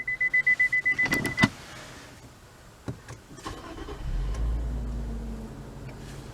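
A 2017 Infiniti Q50 AWD Signature gives a rapid run of chimes and clicks, then a short whir and mechanical thunks, followed by a low hum as the car is switched off. No one speaks.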